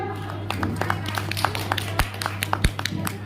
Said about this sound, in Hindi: जरा एक बार ताली उठा के जोरदार